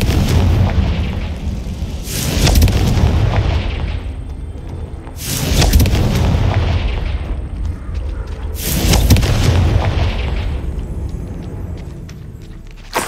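Confringo blasting spell explosions from Hogwarts Legacy boom three times at even intervals, each a loud, deep burst that decays slowly into rumbling, with no talking.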